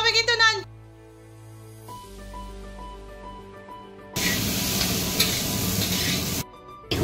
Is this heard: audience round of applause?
no